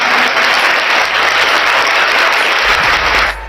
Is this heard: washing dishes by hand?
no